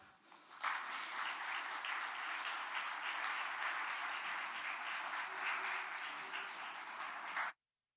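Audience applause at a West Coast Conference honors dinner: a sustained, even roar of many hands clapping in a large room, starting suddenly and holding steady before cutting off abruptly.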